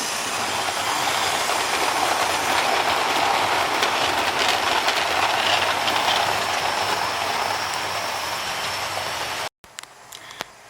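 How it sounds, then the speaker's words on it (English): The Flying Scotsman steam locomotive hauling ten coaches rolls past as a loud, steady rush of wheels and carriages that fills most of the span, then cuts off abruptly near the end, leaving faint scattered clicks. "We've got to use the Flying Scotsman pulling 10 coaches."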